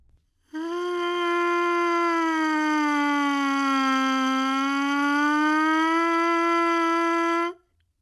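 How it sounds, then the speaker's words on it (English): A trumpet mouthpiece is buzzed alone in one long, loud, sustained siren of about seven seconds; the pitch sinks gradually, then climbs back up before stopping abruptly. "Now try these mouthpiece sirens on your own."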